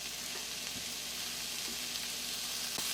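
Mixed vegetables sizzle and fry steadily in a pan, salted and left to cook over heat for about ten minutes, with an even crackling hiss and a few soft stirring clinks throughout.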